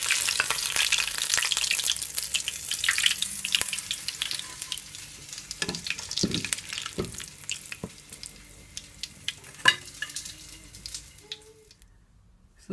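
Fish sizzles and crackles steadily in hot oil for fish and chips, a dense close frying hiss with occasional clinks of utensils that fades toward the end as the pieces are lifted out.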